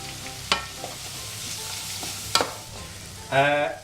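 Softened onions sizzle gently in a pan, a steady low frying hiss broken by a few sharp utensil clicks and scrapes against the metal, with a brief louder scrape near the end.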